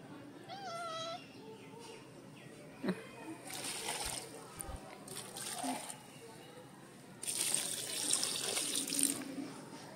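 Water is poured onto a potted tulsi plant, with soft trickling and splashing that grows louder and sizzles brightly near the end, while a person talks quietly at the start.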